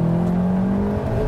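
A compact sports car engine pulls hard under full throttle, a loud, close, steady drone holding a strong tone that climbs slightly over a brief moment.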